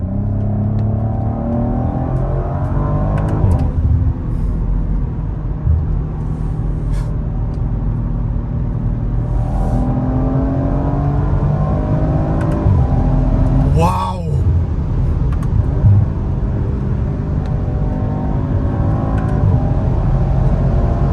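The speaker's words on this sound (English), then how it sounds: "Audi! This engine!" An Audi RS5 Sportback engine accelerates hard in dynamic mode: a loud, close in-cabin drone with pitch that rises and falls through the gears, and a voice exclaims briefly over it.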